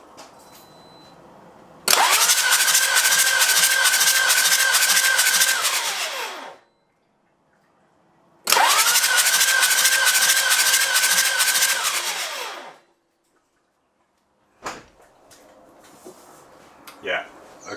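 Toyota Land Cruiser 80 Series with a 1HD-T turbo diesel engine cranking during a compression test for a suspected cracked piston in cylinder 4: two long, loud rhythmic starter bursts of about five seconds each, separated by silence, then a few faint knocks.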